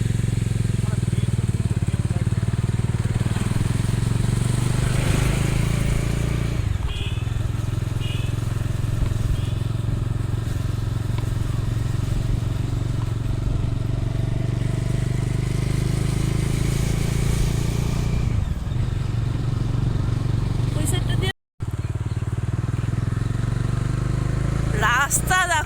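A motorcycle rides along a busy road as one of three bikes out together, its engine a continuous low drone close by, with people talking over it and a few brief clattering bumps.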